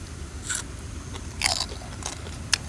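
Crispy-skinned Thai roast suckling pork being bitten and crunched up close, with several sharp, crackly bites spread through the moment and no talking.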